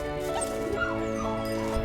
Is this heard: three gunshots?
no